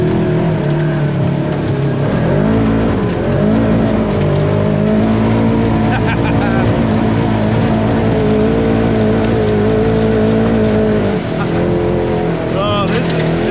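A Polaris RZR 1000 side-by-side drives along with a loud, steady engine drone that rises and falls slightly in pitch, heard from inside the vehicle, with voices talking over it.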